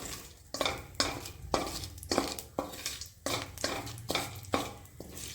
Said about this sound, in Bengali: তিন থেকে চারটে লবঙ্গ এবং এলাচ এগুলো দিয়ে দিয়ে আমি এক দু মিনিট নাড়াচাড়া করব